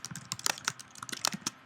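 Fingers typing on a computer keyboard in quick, irregular clicks and taps, close and clear with nothing else around them.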